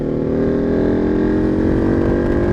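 A Ducati 1299 Superleggera motorcycle engine drones loudly and steadily, its pitch rising gradually as it accelerates, up close with no speech.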